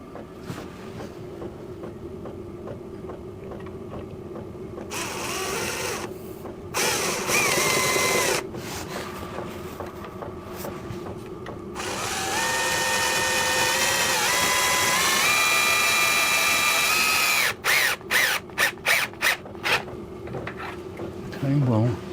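A power drill drives a screw into wood on a woodworking bench extension, whining in several close, loud bursts, including one long sustained run and a string of short stuttering pulses at the end.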